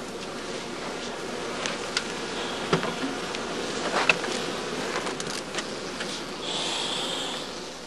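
Honeybees on combs inside straw skeps give off a steady, close buzzing hum the whole way through, with a few brief louder passes and faint rustles, and nobody speaking.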